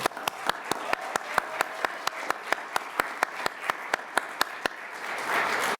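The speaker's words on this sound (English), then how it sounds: "Would you please stand for a round of applause?" Sparse, rhythmic clapping at a county swearing-in ceremony, evenly spaced single claps close by with a soft wash of wider applause swelling near the end.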